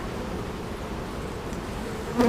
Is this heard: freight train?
no